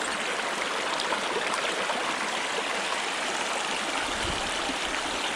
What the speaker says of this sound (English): Quiet, trees, water, walking across the stream.